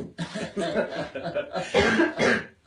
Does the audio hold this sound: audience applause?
no